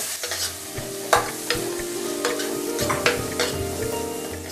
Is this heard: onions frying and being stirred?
yes